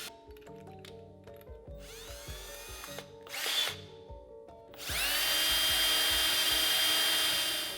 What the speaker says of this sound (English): be sure to drill a pilot hole with a drill bit half the diameter of your screw